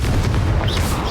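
A Confringo blasting spell bursts in the Hogwarts Legacy video game, a short, dense boom with a rumbling low-end thump that fills the moment loudly, with a brief whooshing tail.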